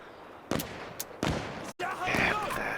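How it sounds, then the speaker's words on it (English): Automatic rifle fire in Insurgency: Sandstorm, a few loud close bursts of shots separated by short pauses, with a sudden gap before a final longer burst, and a player voice faintly present. "Fire like a 30 round mag and I've only killed like one dude probably."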